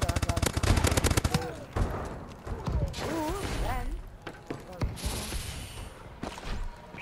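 Rapid automatic gunfire from the Call of Duty: Advanced Warfare video game crackles in loud bursts, with sci-fi whistles and effects mixed in and a player talking over the game audio.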